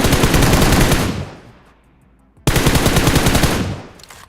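Video-game gunfire in PUBG Mobile: two loud, close bursts of rapid automatic fire, the first lasting about a second and fading, then a short pause before a second sustained burst that also trails off.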